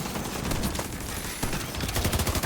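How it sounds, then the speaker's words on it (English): Shotguns fire in the video game The Division 2, producing loud, rapid overlapping bursts that come in two clusters with a short lull between. "Who the fuck is shooting me?"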